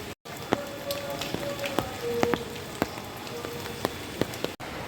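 Rain patters steadily on a surface beside the Ganges at Haridwar, quiet and close, with scattered sharper drops ticking over a soft hiss.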